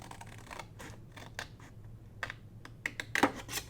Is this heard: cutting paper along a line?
yes